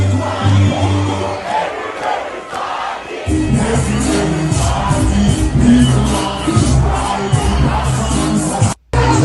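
Large dancehall party crowd at a Sean Paul show roaring and chanting, a loud, dense wall of many voices that swells and holds for several seconds near the front.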